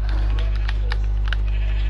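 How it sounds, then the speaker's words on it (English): Sheep bleat in Minecraft, a few short faint bleats scattered over a loud constant low hum, with no talk over them. "I'm going to get this black sheep."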